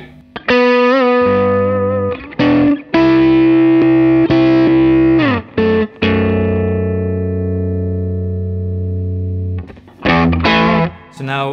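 Electric guitar through a Matchless HC-30 amp with compression and overdrive, loud distorted chords and notes ringing out with long sustain and some reverb, with brief pauses between phrases.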